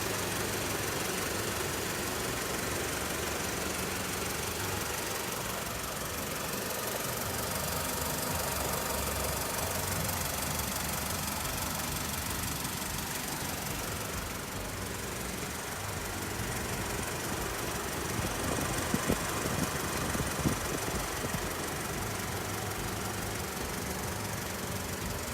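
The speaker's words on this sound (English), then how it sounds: "And this clip is what the motor sounds like." A rebuilt salvage-auction car's motor runs steadily, a continuous rough engine drone with a knocking, ticking texture heard alone for the whole stretch.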